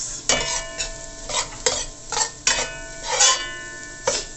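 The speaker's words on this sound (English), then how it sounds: "So now I'm going to be adding my garlic and my onion to it" Garlic and onion sizzle in a hot pan for Jamaican curry crab while a utensil stirs and scrapes repeatedly, close and fairly loud, with no talking.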